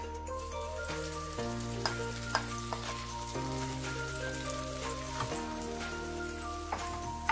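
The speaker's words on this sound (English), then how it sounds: "Now in a wok add 1 tablespoon of ghee. Now I will add makhana mixture." Makhana mixture sizzles softly in a tablespoon of ghee in a wok, a faint crackling with scattered pops, beneath a steady low hum and intermittent clinks.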